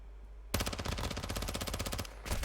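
Rapid automatic gunfire from a multiplayer Call of Duty: Modern Warfare II match, a loud dense burst of closely spaced shots lasting over a second after a brief quiet, then a short pause and another burst.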